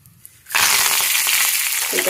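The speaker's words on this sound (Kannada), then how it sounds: "ಈಗ ಇದಕ್ಕೆ ಒಗ್ಗರಣೆ ಹಾಕೋಣ" Mustard seeds and a pinch of asafoetida hit hot oil in a small pan for tempering a green raw mango chutney, bursting into a loud, steady crackling sizzle after a quiet start, with a faint voice briefly underneath.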